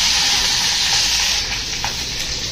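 Mustard seeds and curry leaves sizzle in hot oil, a bright steady crackling hiss with a few small pops near the end, loud and close.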